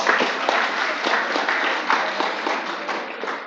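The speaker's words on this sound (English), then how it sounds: "Wow, give a big round of applause." An audience at a campus event applauds steadily, dense clapping filling the space at an even level without a break.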